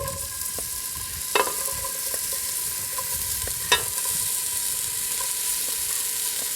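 Onions softening in olive oil in a pan, a constant close hiss of frying with a couple of sharp knocks as they are stirred, and no talk.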